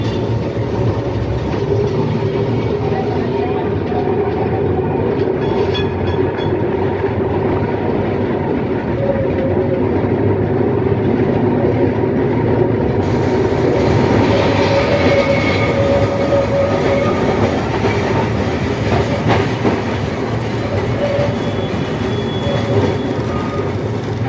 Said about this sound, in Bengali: ঘন্টি মারার পর ট্রাম স্টার্ট হয়ে গেল।